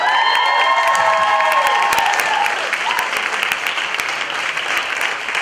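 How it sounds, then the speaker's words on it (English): An audience at a comedy panel show applauds steadily and loudly for several seconds, a dense, even wash of many hands clapping with faint cheering mixed in. "give him a round of applause"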